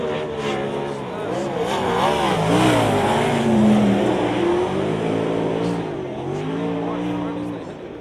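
Sprint cars roar around the track at the North Island Sprintcar Championship shootout in Palmerston North, engines rising and falling in pitch as they pass, with an announcer talking over the steady racing noise.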